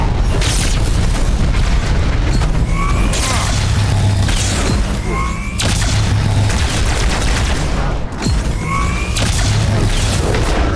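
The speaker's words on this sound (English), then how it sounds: "some sort of shotgun, I feel" Heavy shotgun blasts boom in Halo 2 amid dense, loud combat noise. Several big, spaced booms sound over a constant roar of gunfire and game effects.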